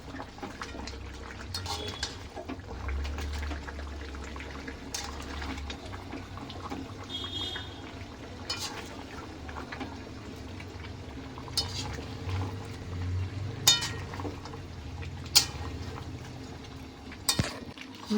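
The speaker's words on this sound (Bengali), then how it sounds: "ভালো করে নেড়ে নিতে হবে।" Mutton being stirred and sautéed in a pot for a dak bungalow curry: a steady low cooking rumble with scattered metallic scrapes and clinks of the spoon, growing sharper toward the end, with no voices.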